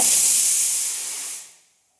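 A pressure cooker cooking rice lets out a loud, sharp hiss of steam that holds steady for over a second, then quickly dies away into silence.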